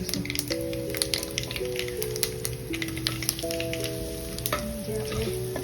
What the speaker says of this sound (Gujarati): તળતળ બોલે એટલે આપણે આ થોડી હિંગ નાખીશું.